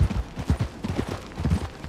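Horse hooves in the video game Red Dead Redemption 2 clop in a steady galloping rhythm, close and moderately loud, with repeated low thuds and no talk over them.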